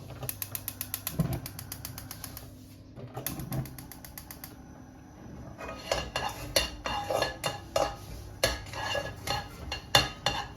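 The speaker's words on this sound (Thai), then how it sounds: "ใส่ กระเทียมลงไปนะครับ แล้วก็เติมน้ำมันลงไป ก็ไม่ต้องเยอะมากนะก็ผัดแค่กระเทียมของเราเนี่ยหอม" Garlic stir-fried in a little oil in a pan, with rapid metallic scraping and clinking of a utensil against the pan, a steady busy rhythm that grows denser and louder toward the end, close by with no talking.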